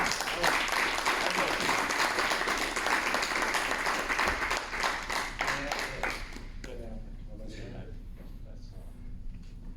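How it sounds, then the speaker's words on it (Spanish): Audience applause fills a manga convention conference hall on Tezuka, dense and loud for about six seconds before fading into scattered claps and murmuring voices. "Un aplauso, por favor."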